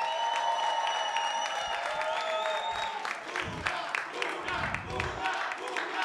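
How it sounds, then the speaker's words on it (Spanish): Audience applause at a live stand-up comedy show, a continuous wash of clapping and crowd noise that lasts the whole stretch. "fuerte aplauso para quien me escribe los shows"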